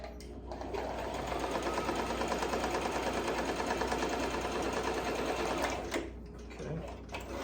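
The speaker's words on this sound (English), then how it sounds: "you're just gonna be sewing diagonally down" A sewing machine runs steadily, stitching diagonally down a slim-fit necktie, a continuous close whirring buzz lasting several seconds before slowing near the end, with faint speech-like noise underneath.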